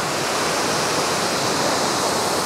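A waterfall at Furong ancient town in Xiangxi roars as a dense, steady wash of rushing water, loud and unbroken throughout, with no voices.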